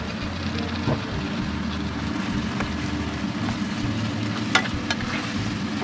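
Marinated pork fries in a pan with garlic and onion, a steady close sizzle with occasional clinks of a utensil.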